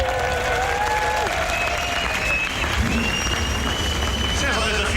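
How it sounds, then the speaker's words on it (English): Crowd of Ford fans at a 1999 V8 Supercars race at Barbagallo Raceway applauding and cheering, a steady dense roar of clapping filling the whole stretch with some voices mixed in. "Sounds like there's a few Ford fans up there, Jason, and cheering you on."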